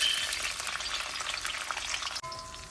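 Raisins and cashews fry in hot ghee with a dense, close crackling sizzle that holds steady, then cuts off abruptly and drops to a quieter hiss near the end.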